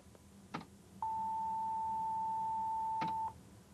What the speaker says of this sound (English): I have underneath it a sine wave at a different pitch.